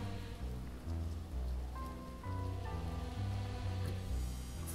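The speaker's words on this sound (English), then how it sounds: "The rain beating off the umbrellas looks good." Rain patters steadily on umbrellas in a video game scene set at dusk, a dense even hiss of drops heard alone over a low, shifting musical drone.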